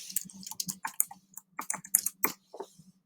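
Quick, uneven bursts of keystrokes on a computer keyboard, close and fairly quiet, with brief pauses between clusters of taps.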